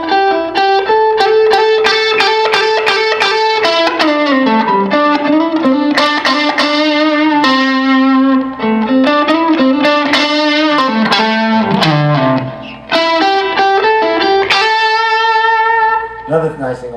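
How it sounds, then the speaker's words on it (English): An electric guitar runs through an amp set near its breakup point, so notes grow gritty and distorted when picked harder. The phrases flow continuously and loudly, with no talking. "If you set an amp to a certain breakup point, when you play harder, a good amp, it should break up more."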